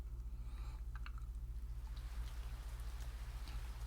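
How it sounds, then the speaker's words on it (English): Rain falls in a steady, faint patter, with a low rhythmic hum running underneath and a few soft drips. "Rain."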